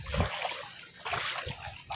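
Someone wades and splashes through knee-deep flood water from a suddenly risen river, with several close splashes and sloshing surges in quick succession.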